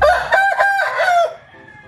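A purebred Basilan native rooster crowing once, close and loud, a drawn-out cock-a-doodle-doo with a rising and falling call that ends abruptly, followed by quiet background.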